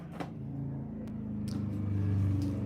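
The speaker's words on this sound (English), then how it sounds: "Oh, okay, loud cars. You've made your presence known." Loud cars drive past outside, a low engine rumble rising and swelling over a few seconds, heard from indoors with no talking.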